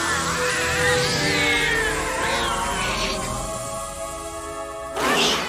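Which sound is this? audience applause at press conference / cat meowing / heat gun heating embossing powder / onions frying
cat meowing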